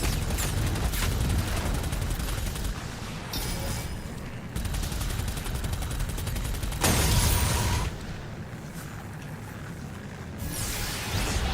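Rapid autocannon fire in Doom: The Dark Ages, with dense, sustained bursts of gunfire broken by short pauses and shifts, along with whooshes and booms of combat, loud and continuous.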